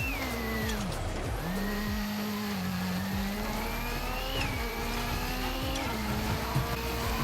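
A damaged video-game rally car, understeering and short of power with bodywork torn off, drives hard through a rally stage. Its engine revs rise and fall and gears shift, with a steady loud drone and tire noise throughout.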